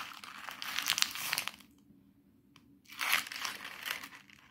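A sheet of paper is crushed by hand into a small ball in two crinkly bursts with a brief quiet gap between them. The sound is close and soft, with no talking.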